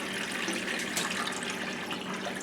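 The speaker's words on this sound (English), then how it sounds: "So what I'm going to do is I'm going to pour most of this off," Old kombucha tea is poured off from a brewing container, producing a continuous close splashing and gurgling stream of liquid with no voices.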